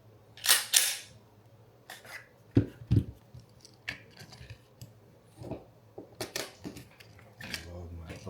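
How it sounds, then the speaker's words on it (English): Rounds are reloaded into a Glock 43X handgun as a sequence of sharp metallic clicks and snaps, irregularly spaced and close by. Soft speech is heard between the clicks. "Reload my bullets."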